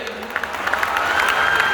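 A stadium audience claps for leaders on stage in Indore, a brief swell of dense applause with crowd noise that grows louder over under two seconds.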